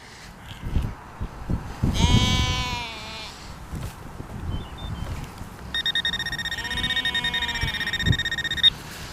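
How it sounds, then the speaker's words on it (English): Lambs bleating in panic in a field, with several loud, wavering cries at close range, one after another, over a background of rustling and thumps. "it's a never-ending chorus of lambs panicking"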